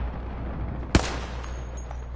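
A single sharp gunshot from a weapon in the Apex video game cracks out once, close and loud, against a low steady background hum.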